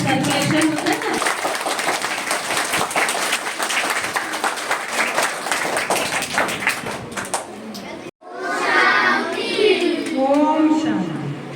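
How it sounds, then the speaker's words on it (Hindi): Loud, dense clapping from an audience at a Brahma Kumaris summer camp gathering fills the first eight seconds, then cuts off briefly before voices rise in a lively group response. "और एक बार जोर से करतल ध्वनि"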